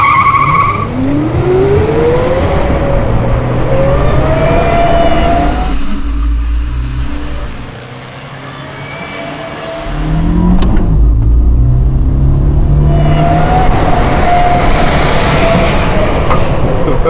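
A car launches hard in a drag race at a tire event, tires squealing loudly over a revving engine, then a brief lull before another screeching, roaring launch.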